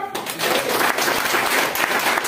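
Applause from a seated audience at a business talk about a mobile app. It starts suddenly and holds dense and steady for about two seconds, filling the room close by, with no talk over it.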